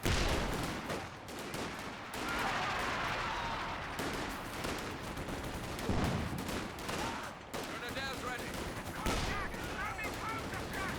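Rifle squad gunfire in the Company of Heroes 2 video game, dense bursts of rifle and machine-gun fire crackling continuously with explosions, under a commentator's voice.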